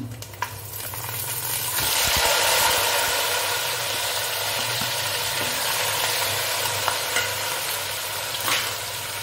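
Biryani ingredients and vegetables fry in a hot pan, giving a steady broad sizzle while a spoon stirs and scrapes now and then, close and continuous with a low hum underneath.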